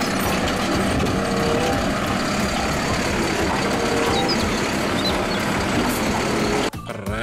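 A toy garbage truck gives off a loud, steady electronic engine rumble with a gritty, noisy texture that runs unbroken for several seconds before stopping suddenly.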